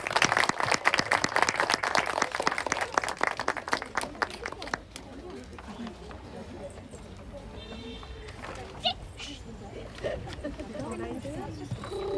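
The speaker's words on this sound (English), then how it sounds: "Let's welcome them with a huge round of applause." Audience at a school annual function clapping and applauding loudly and densely at first, then the applause fades into softer scattered claps and crowd murmur.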